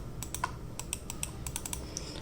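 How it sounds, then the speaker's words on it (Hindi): Sharp clicks from a Zebronics Zeb Power computer mouse, about a dozen quick crisp taps in an irregular rhythm, close and fairly quiet against faint background hiss. "ये जेब्रोनिक्स का जेब पावर की क्लिक की साउंड आप सुन सकते हैं"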